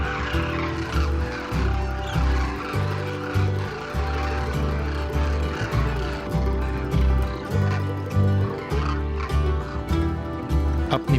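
A large flock of birds fills a village feeding enclosure in Rajasthan with continuous, loud, overlapping calls and honking, a dense chorus with no pauses throughout.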